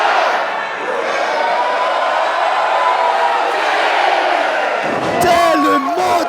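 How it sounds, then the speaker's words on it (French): A crowd at a wrestling street fight event shouts and cheers together in a sustained loud roar, with a burst of louder voices near the end. "Et la foule ici fait le décompte."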